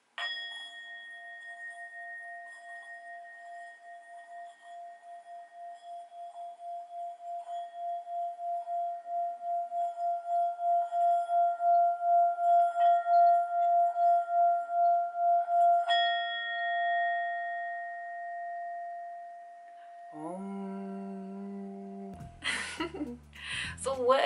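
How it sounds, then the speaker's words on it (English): A brass and copper Tibetan singing bowl rings in one long, steady, shimmering tone that swells and slowly pulses. Near the end a sudden burst of other sounds cuts in briefly. "this is gonna be a Tibetan singing bowl. And it's literally the most calming and just energy neutralizing sound on this planet"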